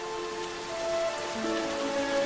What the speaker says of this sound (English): I've been enjoying the rain.